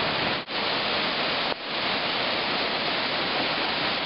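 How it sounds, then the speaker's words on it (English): Little Bear Creek near where it feeds into Loyalsock runs in flood, giving a loud, constant broadband rush of water with two brief dips in level. "Look at that log floating down the creek."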